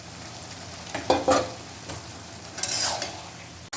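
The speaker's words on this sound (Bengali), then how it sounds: "ভালো করে কষিয়ে নিচ্ছি কষানো হয়েই গেছে" Jackfruit curry being sautéed in a pan, with a low steady sizzle broken by two short bursts of spoon scraping and stirring, close up and without talk.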